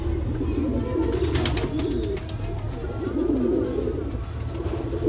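White Madrasi pigeons cooing at close range, soft repeated low throaty coos in a loose rhythm, with a few brief faint chirps and background noise.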